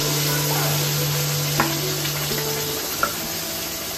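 Spice paste frying in the oil left from frying potatoes, for mutton biryani, giving a steady hiss with a low hum underneath and two brief clinks from stirring, close and with no voices.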